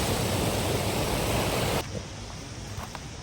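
Powerful water rushes loud and steady in a broad roar outdoors on a trail, then drops slightly in level as the mic moves, continuing as a constant wash with no talk.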